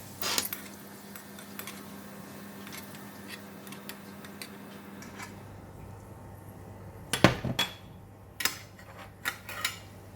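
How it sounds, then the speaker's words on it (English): Fried garlic comes out of a pan with the heat switched off, heard as scattered metallic clinks and scrapes of a utensil against cookware, sharper knocks near the end over a quiet background. "I'm going to switch off the heat and take it out from the pan first"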